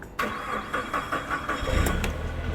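A combustion forklift, model CPQYD35-XF2, starts up: a short starter crank catches quickly, then the engine settles into a steady, close, mid-pitched running idle, with no talking.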